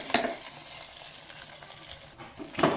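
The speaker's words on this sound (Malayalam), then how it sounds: "ഉള്ളി മൂപ്പിച്ചെടുക്കാം. അപ്പോൾ കറിവേപ്പില, വറ്റൽ മുളക്, അപ്പോൾ മൂത്ത് വന്നതും കൂടി ഇതിലോട്ട് ഒഴിച്ച് കൊടുക്കാം." Hot oil with fried onion, curry leaves and dried red chillies is poured over mashed dried tapioca and cowpeas, giving a brief close hiss and sizzle with a louder crackle at the start and the end.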